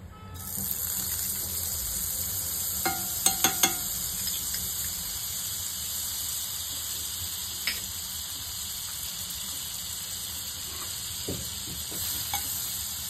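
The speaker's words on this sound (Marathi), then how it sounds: "ते पॅन मध्ये आता मी 1 चमचा बटर टाकते" A spoonful of butter melts and sizzles in a pan on a gas stove, the first step toward frying corn: a steady bright hiss with a few soft clinks of utensils near the start, no voices.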